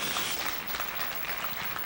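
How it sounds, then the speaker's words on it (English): A church congregation claps their hands at a Sunday evening service, a dense continuous wash of many claps heard from a distance, fairly soft and without clear individual beats. "Clap your hands. Clap your hands."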